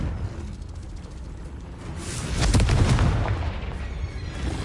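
A Confringo spell blast in Hogwarts Legacy on PS5 erupts as a deep, rumbling explosion that swells and lingers for a couple of seconds over steady game ambience, with no voices.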